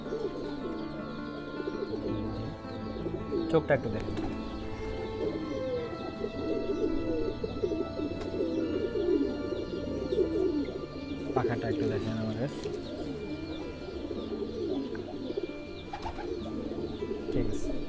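A fighter pigeon coos softly and repeatedly, close by, while people talk over it throughout.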